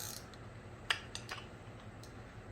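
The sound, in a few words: wrench turning brake caliper piston compressor tool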